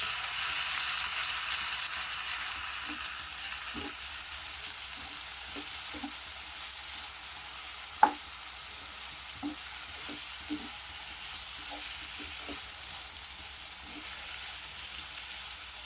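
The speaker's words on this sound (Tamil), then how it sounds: "வெங்காயம் நல்லா கோல்டனாக வதங்குற அளவுக்கு வதக்கி விட்டுறலாம்" Steady, quiet frying sizzle of onions and tomatoes in a pan, with occasional soft clinks and scrapes of stirring scattered throughout; no voices.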